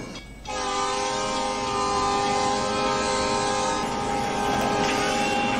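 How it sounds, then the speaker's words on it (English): A loud, sustained train horn blares with rich harmonic tones over the rumble of an approaching train, holding steady for several seconds, from the film Back to the Future Part III. "Is there a train oncoming?"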